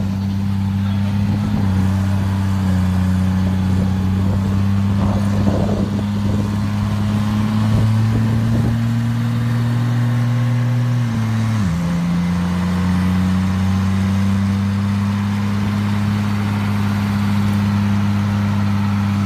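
A high-performance car engine runs hard on a Superflow chassis dyno at a dyno competition, a loud steady roar holding pitch, then dropping abruptly near the end and settling into a lower sustained drone.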